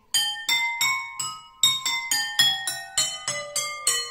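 Metal bowls being tuned, struck one after another in an even rhythm about a dozen times, each a bright ringing tone that decays quickly, with pitches stepping gradually downward across the series.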